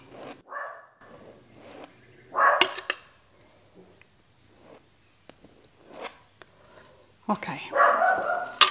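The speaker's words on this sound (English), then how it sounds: "decide to explode into indignant barking" A dog lets out a few sharp barks and yips in bursts, close by, with quiet gaps and a brief spoken word in between.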